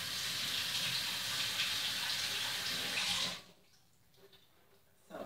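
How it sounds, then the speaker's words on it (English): Tap water runs steadily in a kitchen sink as asparagus is rinsed under it, a loud continuous splashing that stops abruptly after about three seconds, leaving near-silence with faint handling noises. "I'm going to rinse these off and cut them sideways"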